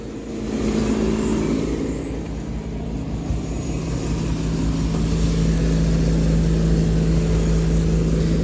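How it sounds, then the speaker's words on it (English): A blower fan runs in a Dodge conversion van just after its first start following a head replacement. The fan makes a steady, unhappy whir over the low idling engine and carries on continuously with no talk. "That weird sound is the blower fan."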